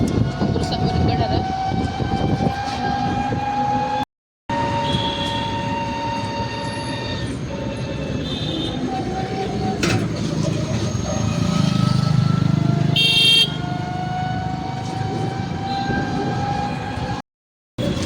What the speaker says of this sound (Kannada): ರಜೌರಿ ಮೆಟ್ರೋ ಸ್ಟೇಷನ್ ಅದ ರೀ.